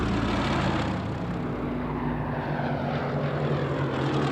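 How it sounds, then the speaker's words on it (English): Massed enemy propeller aircraft engines drone during an air raid on Dover, a loud, continuous, layered roar with steady throbbing tones that holds without a break. "4 fighter squadrons from 11 Group engage another raid on Dover by about 100 enemy aircraft."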